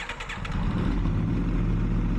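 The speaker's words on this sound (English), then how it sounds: "And we have a running bike, so that's always a good sign." An Aprilia RSV4 track bike engine catches after a brief starter whir and settles into a steady, loud, close idle rumble.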